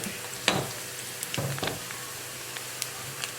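Maggi vegetable pakoda deep frying in hot oil, a continuous crackling sizzle with scattered pops and light stirring clinks, close and moderately loud with no talk.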